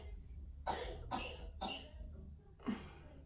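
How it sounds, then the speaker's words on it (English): Four harsh, close coughs, three in quick succession and then one more after a short pause, with no talking. "And she's literally watching me cough."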